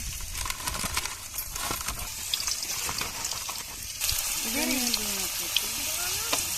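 Duck meat being sautéed in a pan at a Bengali family cook-up, with a moderate sizzle and crackle under ongoing background chatter and faint clinks.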